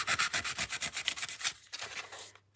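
Rapid, rhythmic back-and-forth scratching of sandpaper rubbed by hand over scrapbooking pieces, close and loud, slowing and fading out after a couple of seconds.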